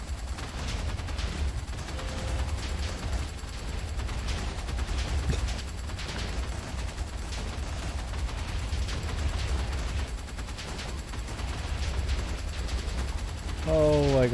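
Rapid weapon fire and explosions in a modded Minecraft game with the HBM Nuclear Tech Mod, a steady dense crackle and rumble that runs the whole time, with a rising mechanical whine near the end.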